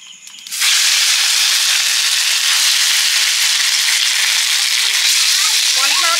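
Chicken pieces coated in cornflour drop into hot oil in a kadai and burst into a loud, close, continuous sizzling hiss that holds steady to the end.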